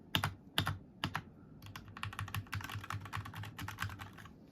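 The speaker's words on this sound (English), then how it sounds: "If you take a listen, the spacebar's more deep." Mechanical keyboard fitted with new blue and purple keycaps, typed on up close: a few spaced, sharp key clacks, then a fast, steady run of clicky keystrokes mixed with deeper thuds.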